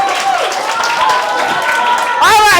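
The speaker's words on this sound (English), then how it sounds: "Please, let's clap for them." Audience clapping to cheer on contestants at a pop event, a steady crowd sound mixed with a voice talking and music over it, swelling louder near the end.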